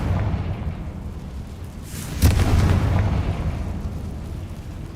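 Confringo blasting spell exploding in the video game Hogwarts Legacy, a single sharp burst with a rumbling tail over steady game ambience.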